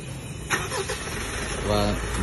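A Mitsubishi Triton pickup engine is started remotely from an Apple Watch: a short cranking burst catches and settles into a steady close idle, with someone speaking briefly over it.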